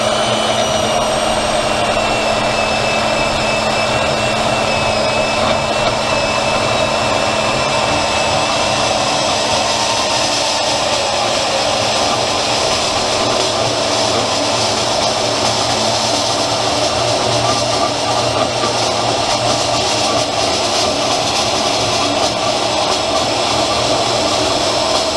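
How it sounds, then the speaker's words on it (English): A bandsaw cutting metal stock for drive-over trailer fenders, a continuous loud whining drone with a high-pitched grinding edge that runs steadily for the whole stretch, nearby and without speech. "And I'm going to go ahead and cut this one off the bandsaw."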